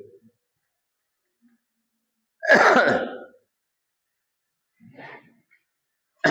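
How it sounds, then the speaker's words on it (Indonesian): An older man clears his throat once with a loud, rough burst, followed by a softer cough a couple of seconds later, in an otherwise quiet room. "karena orang tua ini ada banyak batuk"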